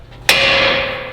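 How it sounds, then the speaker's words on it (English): A single sharp metallic hammer tap on the front ball joint of a 2020 Duramax truck, one crisp strike with a ringing tone that decays over about a second, close and alone. "with just a little bit of a tap of the hammer, your ball joints will come free"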